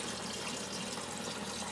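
Water rushes steadily down an external siphon drain pipe from a grow bed, a continuous, fairly faint gurgling wash with no voices.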